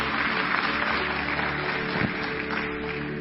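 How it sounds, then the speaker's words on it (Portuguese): A church congregation applauds steadily with dense, continuous clapping that fills the space at an even loudness throughout. "Uma salva de palmas para o nosso Senhor Jesus Cristo"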